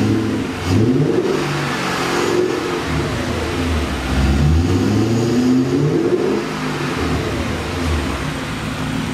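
A 2002 BMW E39 M5's S62 V8 engine, cold and idling in a garage with a muffler delete, revs up several times, its pitch rising and falling in close, loud swells between idle stretches.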